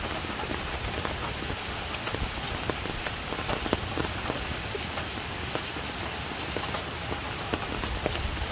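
Rain falling steadily on surfaces outdoors where chicken back curry and cornmeal dumplings are being cooked, a dense, even patter with scattered close drops and no talking.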